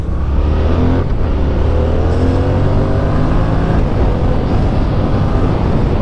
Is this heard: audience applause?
no